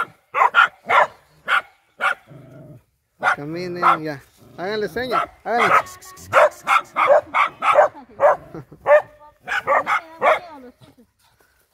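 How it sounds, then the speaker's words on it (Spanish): Several small dogs bark and yip in quick sharp bursts nearby, with a stretch of whining in the middle, while people talk over and between the barks. "Aquí nos detuvieron estos perritos."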